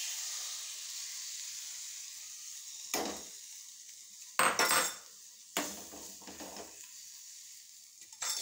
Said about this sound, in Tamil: இந்த கேரட்டை அப்படியே போட்டு கிளறி இந்த முட்டை கலவை அதை ஃபுல்லாக அப்படியே ஊற்றிடும்